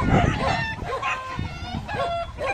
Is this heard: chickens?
yes